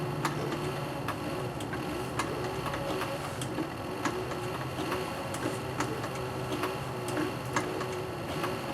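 Sewing machine stitching a 1911 leather holster with brown size 277 nylon thread, a steady rapid ticking of needle strokes repeating evenly throughout, close and fairly quiet with no talking.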